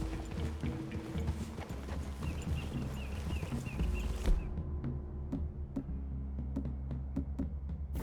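Horse hooves clip-clop at a steady walking pace in Red Dead Redemption 2, with riders moving through a wooded clearing. Background game ambience plays under the sharp, evenly spaced hoofbeats, which become clearer once the ambience thins.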